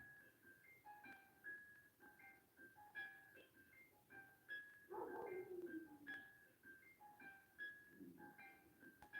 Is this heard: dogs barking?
yes